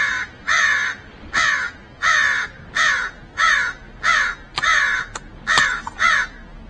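Crows caw loudly and close by in a steady series of about ten harsh calls, evenly spaced, with brief gaps between them and no voices.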